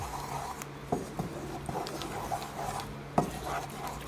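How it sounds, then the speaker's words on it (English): Egg fried rice with jerk seasoning is stirred in a pan over low heat, making soft scrapes and a few sharp clinks of utensil on metal, one louder near the end, against a faint background. "we just kind of stir this so we have an even coating of the seasoning through the egg"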